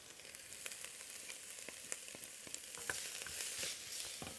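Crushed garlic cooking in a pot for a vegan chipotle black bean soup, a soft, even sizzle with small pops and a few faint stirring clicks.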